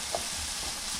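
Potatoes and onions sautéing in oil give a steady, soft sizzling hiss that holds evenly through the whole moment, close by and without any talking.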